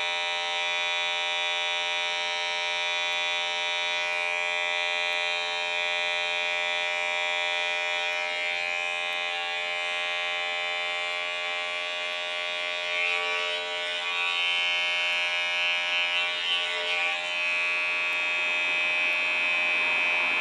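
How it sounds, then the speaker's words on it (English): Electric hair clippers buzz steadily and close up throughout a skin fade haircut in a barbershop, a continuous high-pitched motor whine with slight shifts as the blade works along the hairline. "Best thing about these clippers"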